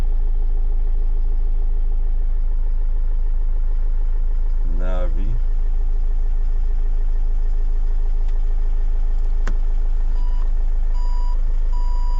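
Reverse parking sensor beeps from a vehicle, likely a truck, sound once in a short rapid burst in the middle, over steady low engine rumble and background noise.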